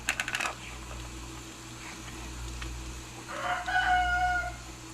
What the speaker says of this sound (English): Rooster says good morning.